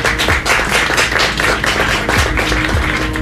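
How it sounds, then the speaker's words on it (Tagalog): Short burst of clapping during a Filipino radio live stream, loud and busy with dense rapid hand claps and taps running continuously, with a steady tonal hum underneath. "Paunang palakpak, may confetti pa yan."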